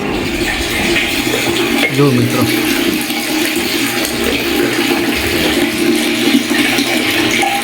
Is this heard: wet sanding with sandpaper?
no